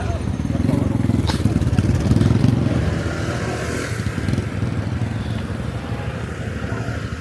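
Motorcycle idling and rumbling nearby outdoors on a hillside as it is parked, a steady low engine chug that eases slightly toward the end, with people talking over it.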